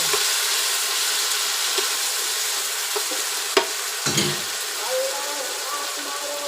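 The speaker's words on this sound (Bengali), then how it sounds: "এবার কষিয়ে নেব" A pan of katla fish curry with drumstick and potato sizzles steadily while a utensil stirs and scrapes, with a couple of sharp clinks and a faint voice in the background.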